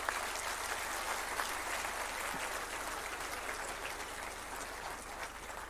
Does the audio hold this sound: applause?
yes